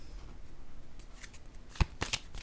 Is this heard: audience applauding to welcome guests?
no